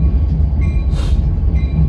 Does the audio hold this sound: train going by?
yes